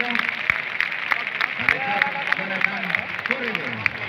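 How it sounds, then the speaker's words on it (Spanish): A crowd at a street contest in La Vall d'Uixó applauds in a steady patter of clapping while a commentator talks excitedly over it, with cheering voices mixed in. "Vamos a ver ese fuerte aplauso."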